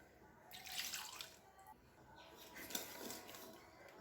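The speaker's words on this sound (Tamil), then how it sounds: "இன்னும் தண்ணி ஊற்றி கழுவி ஊற்றிடுங்க" Water is poured into a bowl to rinse it while making bottle gourd adai batter in a kitchen, giving two short, soft splashing pours close by.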